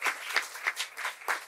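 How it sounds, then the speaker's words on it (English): An audience at a live recorded talk on newcomers and the nonprofit sector applauds, a brief, fairly quiet patter of many clapping hands. "I appreciate the applause"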